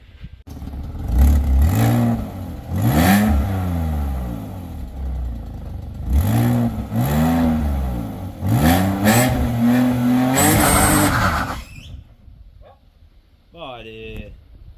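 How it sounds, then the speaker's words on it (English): Car with its ABS fuses pulled doing a driveway burnout at night, the engine revving up and down in repeated loud, close surges before cutting out, with a voice briefly heard near the end. "see if this thing can do a nice driveway burnout tonight maybe"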